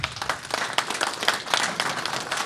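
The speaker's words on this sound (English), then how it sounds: "Can we get a big round of applause" A crowd applauds steadily, dense clapping filling the whole stretch at moderate loudness with no one speaking over it.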